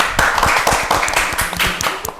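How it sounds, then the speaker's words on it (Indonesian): Students at a school Ramadan boarding program event clap their hands together in a loose, uneven rhythm, close and fairly loud, with sharp individual claps and some chatter mixed in. "Tepuk tangan dong."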